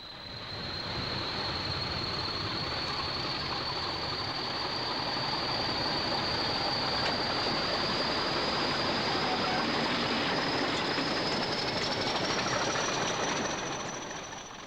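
A Class 40 diesel locomotive, number 40141, departing Manchester Piccadilly, giving a sustained loud engine roar with a rising high-pitched whine that climbs steadily as it pulls away.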